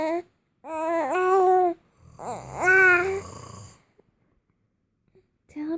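A voice imitates a father's snoring with a couple of drawn-out, buzzing snore-like vocal sounds separated by short pauses, close and fairly loud.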